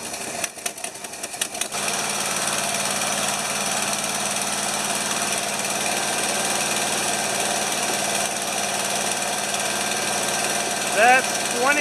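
A 1975 Lincoln Continental engine runs steadily with a constant mechanical drone and tonal hum throughout, close and fairly loud, with a brief burst of louder clatter in the first two seconds and no clear rise into a rev.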